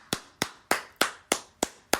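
Seven sharp hand claps at a steady, moderate pace, crisp and close, heard alone with no voices.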